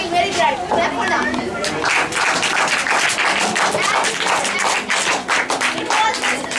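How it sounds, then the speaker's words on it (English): An audience at a school debate event claps for a team's presentation, steady close clapping with chatter and voices running throughout. "Clap for them."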